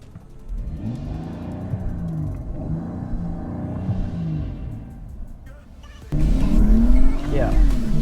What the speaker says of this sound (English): So I'm mashing the pedal, sports mode.